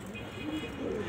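Pigeons coo softly in a few low, rounded calls over a steady background hiss.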